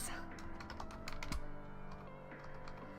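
Rapid typing on a computer keyboard, a steady run of light clicks and taps at close range over a constant low background hum, with no talk.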